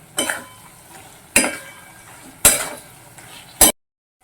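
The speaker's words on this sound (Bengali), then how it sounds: "এইবারে মাছের মাথাটা দেওয়ার পর এগুলোর সঙ্গে মাছের মাথাটাকে একটু ভালো করে কষিয়ে নেব" Fish heads are stirred and fried in a kadai, with four sharp scraping clatters of a spatula against the metal pan spaced about a second apart over a faint background.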